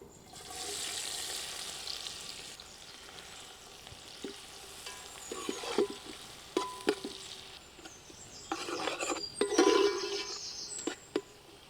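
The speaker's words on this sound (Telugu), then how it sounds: "మసాలా దినుసులు రెండు నిమిషాలు బాగా వేగాక ఉల్లిగడ్డలు వేసేసుకుందాం" Onions and whole spices frying in a pot for egg dum biryani, a soft steady sizzle broken by clinks and scraping stirs that grow busier and louder toward the end, with no voices.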